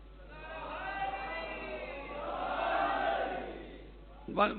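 Crowd voices chanting a religious slogan together in a sustained, swelling collective shout, with a sharper burst near the end.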